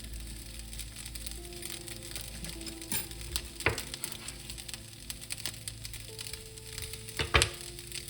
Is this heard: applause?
no